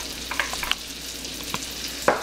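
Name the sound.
onions and garlic sizzling in butter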